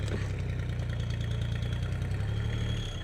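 A hand tractor engine runs steadily, close and loud, while tilling a paddy field for off-season rice. The low, even chugging holds with no pauses and no voices.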